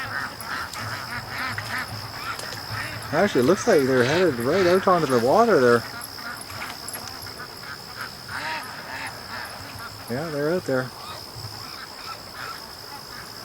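Ducks raised on a farm call with bursts of harmonic quacks and honks, a loud flurry in the middle and a shorter one near the end, heard outdoors alongside someone talking.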